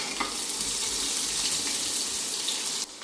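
Chopped onions and three green chilies frying in oil in a pan for a fish curry: a close, steady hiss and sizzle that runs unbroken and cuts off abruptly near the end.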